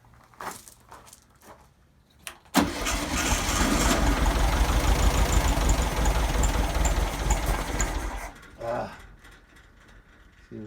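Volkswagen Beetle engine with a Pict-3 carburetor idling roughly after carburetor cleaning, a loud steady rumble that starts abruptly, runs unevenly for several seconds, then cuts off, with quieter workshop sounds before and after.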